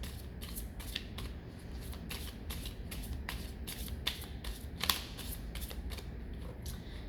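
A tarot deck is shuffled in a quiet room, making a rapid run of soft riffling card flicks close by that carries on steadily throughout, with no talking.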